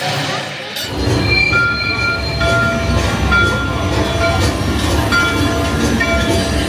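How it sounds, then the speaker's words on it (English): At a theme park ride, a cartoon-style locomotive rolls in: a loud rumbling rail clatter with squealing wheels and sustained whistle-like tones, starting abruptly and continuing steadily close by. "And here comes our locomotive."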